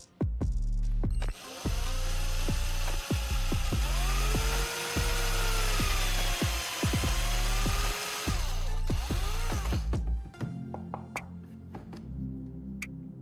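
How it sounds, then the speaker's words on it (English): An electric drill bores a small hole in the center of a candle piece made from wax mixed with sawdust. Its motor whines loud and close for about ten seconds, the pitch dipping and rising under load, then stops, leaving quieter handling sounds. "I drill a small hole right in the center of each candle piece."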